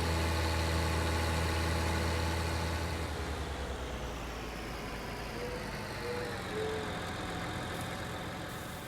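A John Deere tractor engine in Farming Simulator 19 runs steadily at idle, a loud low drone that eases slightly quieter over the span, with no talk over it.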